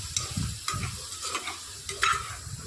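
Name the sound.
stirring soya and potato pulao with biryani masala in pot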